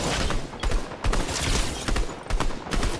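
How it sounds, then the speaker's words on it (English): Video-game gunfire from a hill: dense, loud bursts of automatic shots in repeated volleys over about three seconds, with brief gaps between them. "Being shot at from the hill."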